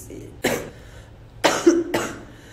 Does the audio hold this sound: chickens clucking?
no